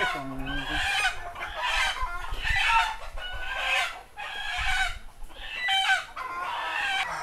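Darag native chickens cluck and call repeatedly on a farm, with hens cackling in rhythmic bursts and a rooster crowing, fairly close and loud.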